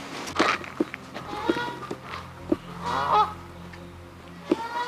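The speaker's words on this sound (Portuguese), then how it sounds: "Olha, são patos que estão gritando lá." Loud honking squawks from waterfowl at Le Foulon lake, several sharp calls scattered over a few seconds with some nearer and some farther off, alongside light footsteps and faint background noise.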